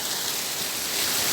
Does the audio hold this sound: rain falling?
yes